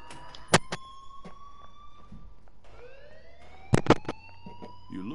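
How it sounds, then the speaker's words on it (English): A video game alarm rises and blares in swept, siren-like tones, moderately loud, broken by sharp clicking hits and brief clatter around it. "Leave Miss Caulfield alone and please turn off that alarm since that's your job"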